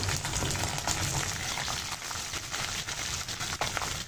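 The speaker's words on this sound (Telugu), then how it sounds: "ఇవన్నీ గోల్డెన్ బ్రౌన్ కలర్ అయ్యే వరకు మనం వేయించుకోవాలండి" Dried red chillies and chopped green chillies frying in hot oil as the tempering for mango pulihora, a dense, continuous sizzle heard up close and steady throughout, with no talking.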